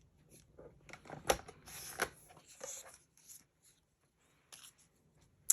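Scrapbook paper being trimmed on a small cutting tool, giving soft, quiet scraping and sliding strokes with a few sharper clicks, close up and with no talking.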